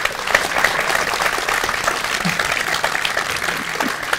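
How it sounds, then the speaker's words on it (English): Audience applause for a speaker at a talk, dense steady clapping from a seated crowd sustained for several seconds at even loudness. "So if we can give a round of applause to Thomas Joshua Cooper"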